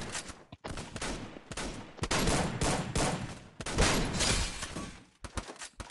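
Gunfire in a team deathmatch shooting video game, dense bursts of rapid shots that come in clusters with brief gaps, fairly close and fairly loud, with no clear talking.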